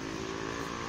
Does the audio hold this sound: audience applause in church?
no